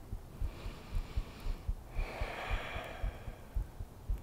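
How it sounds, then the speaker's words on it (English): Slow, steady breathing during a yoga session, soft audible inhales and exhales in a quiet room, gentle and close with no talking. "find the sound of your breath once again"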